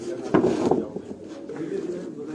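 Pigeons of many breeds coo on a Karachi rooftop loft, a low soft cooing over a steady murmur of background noise, with faint voices nearby.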